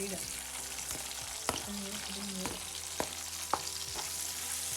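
Chopped capsicum and onion fry in a hot pan with a continuous sizzle, broken by a few sharp spoon taps and scrapes as they are stirred, while a voice speaks briefly.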